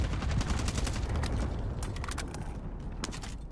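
Sharp, irregular gunshots in a shooter game, several cracks spread across a steady mechanical rumble, fairly close and loud.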